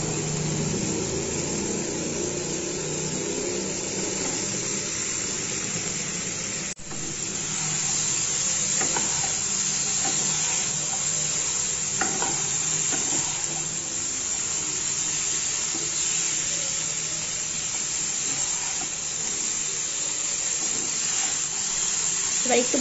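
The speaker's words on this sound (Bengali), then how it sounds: "এবার এর মধ্যে আমি ভেজে রাখা ব্রোকলি গুলো দিয়ে দেব।" Fried broccoli stirred in a hot pan for a broccoli, potato and peas curry, a soft continuous sizzle with occasional spatula clacks and one sharp knock, a voice speaking over it at times.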